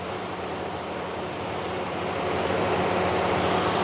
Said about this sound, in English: apparently the fans kick on at 217 F. And there you go. They just kicked on 217 F.